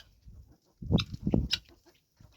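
Guinea fowl and chickens on a small farm give a few short, sharp clucks and squawks in quick succession, fairly close, with quiet pauses between calls.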